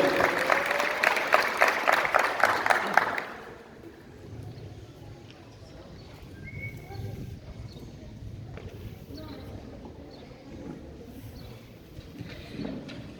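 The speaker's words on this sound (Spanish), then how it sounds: "Quiero pedirles que le brindemos fuertes los aplausos a todas las personalidades que hoy nos acompañan en la mesa del presidium" Audience at a public consultation for the Náhuatl Indigenous community in Ixtolco de Morelos applauding the guests at the head table, a loud burst of clapping that stops abruptly after about three seconds, leaving quiet room murmur.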